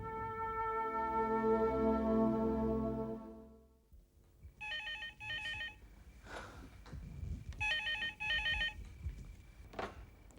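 A telephone rings in repeated double bursts of electronic trills after a sustained droning tone fades, fairly quiet and with no talking.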